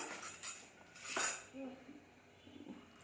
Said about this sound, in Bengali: বাটিটা ভালোভাবে ধুয়ে নাও